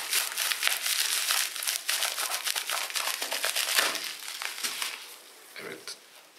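An old pair of scissors cuts slowly through material during a PC RAM upgrade, giving close, crisp crunching and snipping bursts that run almost continuously before fading near the end.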